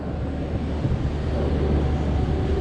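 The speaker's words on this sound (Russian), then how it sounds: "ветер дует в матюгальник" Strong wind buffets a megaphone outdoors in stormy weather during a heavy 60-ton lift, making a loud, continuous low rumble and roar with no speech.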